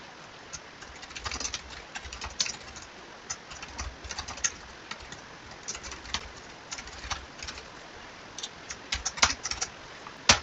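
Fingers tap steadily on a computer keyboard in irregular bursts of quiet clicks, with soft background ambience and no talking.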